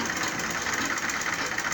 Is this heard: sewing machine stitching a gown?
yes